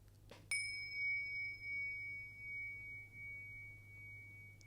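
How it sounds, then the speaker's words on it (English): Two meditation bells used in sound healing are struck together, giving one sharp onset followed by a sustained, pure ringing tone that slowly fades over several seconds against a quiet background. "when you strike the two bells"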